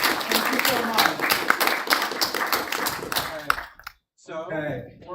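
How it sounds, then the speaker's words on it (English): An audience at a spring speakers forum breaks into dense, steady applause that fades out, then a voice speaks briefly after a short silence. "Can we give her another round of applause?"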